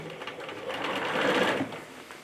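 A sewing machine runs steadily, its needle whirring in a fast even rhythm as it stitches a 5/8-inch sleeve seam on a Simplicity 7122 shirt. The sound is close and continuous, with no talking.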